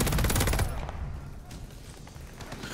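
Whitney LMG gunfire from the shooter game Call of Duty Vanguard, a dense burst of loud, close rapid shots in the opening half-second, then a lower murmur of distant game ambience.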